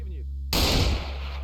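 Gunfire in the video game S.T.A.L.K.E.R.: Variant "Omega", a single loud, close shot with a booming decaying tail that cuts sharply over a steady low in-game hum.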